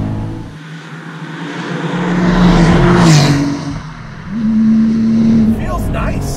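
A 515 hp RUF 996 RTurbo Porsche with K24 turbos pulls hard on the road, its engine note rising and falling through revs inside the cabin, loud and continuous, with a driver speaking over it.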